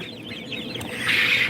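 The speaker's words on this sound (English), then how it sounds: "We got every kind of quail in the whistle." Baby quail chicks chirp in a crowded hatchery brooder, a dense overlapping chorus of high peeping from many birds nearby that swells louder toward the end.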